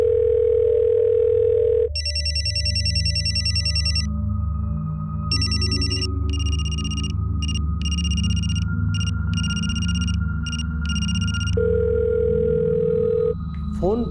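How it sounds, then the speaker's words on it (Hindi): A phone rings in repeated electronic bursts over a low steady hum, with a dial-tone-like note at the start and end. "फोन बज तो रहा है लेकिन वो उठा नहीं रहे।"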